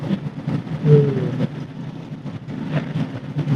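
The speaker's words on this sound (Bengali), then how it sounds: "এখন আপনারাই চেক করেন বাইকের শব্দ শুনে, আমিও চেক করি" A freshly serviced Suzuki Gixxer SF motorcycle rides along a main road, its engine giving a steady low hum mixed with rumbling road and wind noise, with no clear speech.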